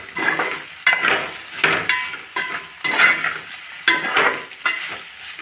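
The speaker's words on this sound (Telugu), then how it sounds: "ఇదిగండి బెండకాయ వేపుడు వేగిపోయిందండి." Okra stir-fry sizzling in a pan while a spoon stirs it in regular strokes, each scrape rising over a steady frying hiss, close and fairly loud with no talk.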